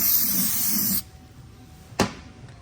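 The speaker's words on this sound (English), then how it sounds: "let me spray it down so we can see what we're looking at" Cleaner sprayed from a bottle onto burnt 6L80 six-speed transmission clutch plates during a rebuild: a steady one-second hissing spray, then a quiet pause and one short sharp burst.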